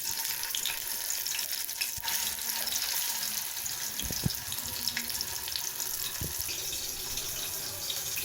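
Chicken dipped in batter for Chicken 65 fries in hot oil in a frying pan at home, a continuous bright sizzle with crackling pops and a few soft clatters, no talking.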